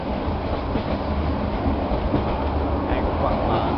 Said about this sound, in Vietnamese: Đang 4 giờ sáng trên xe lửa